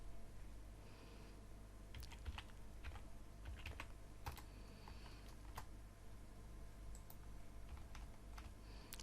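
Steady typing of CSS code on a computer keyboard, a quick run of soft clicks with a few sharper key taps, close by over a low background hum and with no talking.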